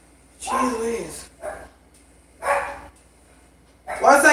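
Indoors, a dog gives several loud, close bark bursts separated by short pauses, with the final burst the strongest.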